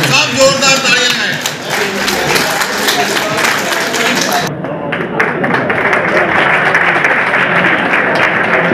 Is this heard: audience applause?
yes